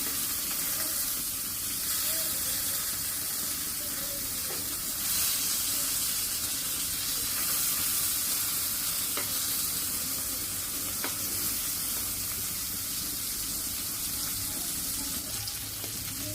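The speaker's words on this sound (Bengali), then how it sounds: "বাইরে মাছ ভাজছো?" Hilsa fish wrapped in gourd leaves fries in hot oil, giving a steady, close sizzle with crackling that holds constant for the whole stretch, with no talk over it.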